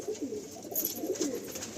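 A pair of pigeons coo softly in short, overlapping throaty phrases, close by and fairly quiet, with no talking.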